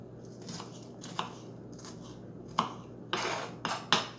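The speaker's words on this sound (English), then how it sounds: "I'm adding just a little piece of the regular onion. Peel it off first." An onion piece is peeled by hand, with dry papery crackles and small snaps arriving in irregular bursts, close and fairly quiet, louder toward the end.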